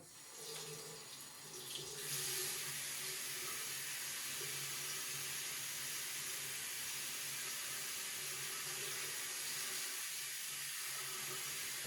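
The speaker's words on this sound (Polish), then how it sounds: "przykładamy czubek tutaj do górnej dziurki od nosa i dolną dziurką od nosa wypływa nam ta woda" Water streaming steadily from a nostril during a nasal rinse, a continuous close trickle and splash over a sink, with no talking.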